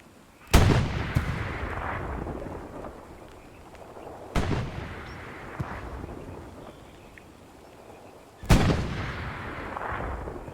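Three heavy gunshots or cannon blasts crack out several seconds apart near a tank in the Hell Let Loose game, each with a long rumbling tail over a steady battlefield background.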